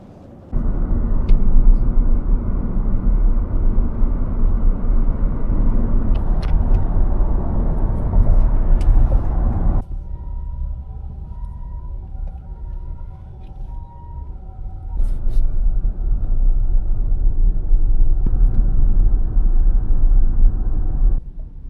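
Inside a car riding through Shanghai, China, a loud steady engine and road rumble carries on throughout, easing to a quieter stretch midway with faint tonal beeps before building again.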